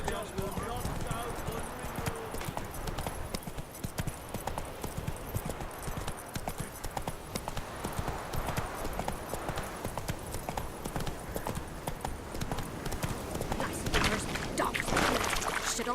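Roach, the horse in The Witcher 3, trots with steady rhythmic hoof clip-clops under continuous talk, set against ambient outdoor game sound, with a louder passage near the end.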